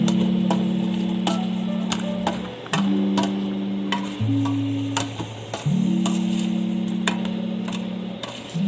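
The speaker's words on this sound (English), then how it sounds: "Stir everything." Leek soup being stirred in a pot after salt, sugar and black pepper go in: scattered light clicks and scrapes of a utensil over a steady low tonal hum, with no talking.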